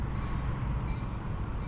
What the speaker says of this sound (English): looking at a Metra train that will take you downtown in about 33 minutes